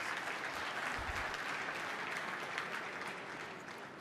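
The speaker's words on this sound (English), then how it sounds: "Round of applause" A large awards-gala audience at the World Rugby Awards in Monaco applauds in a steady, dense wash of clapping that holds at an even level before tapering slightly toward the end, with no one speaking over it.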